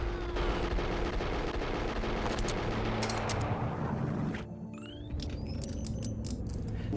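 Gunfire and explosions from the video game Max Payne: a dense, rumbling barrage of shots and blasts that cuts out briefly, then returns with sharp, crisp individual gunshot cracks and metallic pings, fairly quiet overall.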